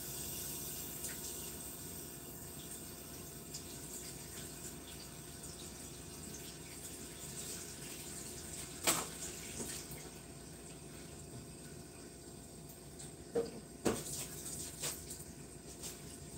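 Water runs steadily from a tap while a kitchen item is rinsed and cleaned beneath it, with a few soft knocks and clatters rising briefly above the constant flow.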